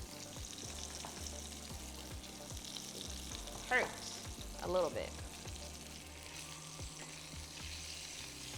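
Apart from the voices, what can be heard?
chicken thighs frying in oil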